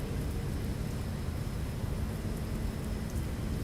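Steady rain and rumbling thunder of a hurricane storm inside a flight simulator cockpit, a dense continuous wash of noise with low rolling rumble, even and unbroken throughout.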